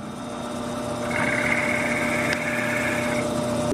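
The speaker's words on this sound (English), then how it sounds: "drill right in that center" A steady motor hum rises as a drill spins up, boring a quarter-inch hole into a crystal skull, and runs for a couple of seconds, then winds down, close by with no talking.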